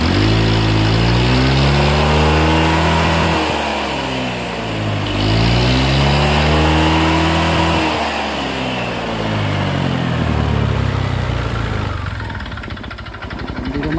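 A Honda Click scooter engine, noisy with knocking and smoking, is revved repeatedly, its pitch sweeping up and down in three loud rising-and-falling surges close to the microphone, with no talk.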